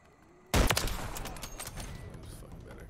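Sniper rifle fire in Call of Duty MW3 lands as a sudden loud close crack, followed by a burst of further shots and sharp impacts that trail off over a few seconds.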